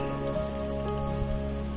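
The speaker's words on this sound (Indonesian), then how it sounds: "hari ini sudah mulai hujan. Hari sudah mulai hujan sekarang" Steady rain falls in a pine forest of low, dense trees, a constant even patter on the surface with no voices.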